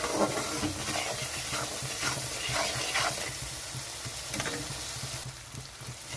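Masala fries in mustard oil with a little added water, sizzling steadily and fairly loud up close, with stirring scrapes recurring at irregular intervals.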